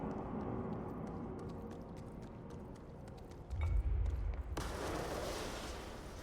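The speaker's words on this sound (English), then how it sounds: "Slightly time delay explosion." A delayed explosion in the video game Control goes off as a sudden deep low boom, then gives way to a sustained brighter crackling roar that carries to the end over steady game background noise.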